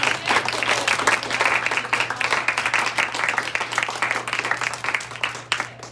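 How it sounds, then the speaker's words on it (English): A student debate audience applauds steadily with dense clapping that holds for several seconds and then thins out near the end. "let's give a round of applause for our"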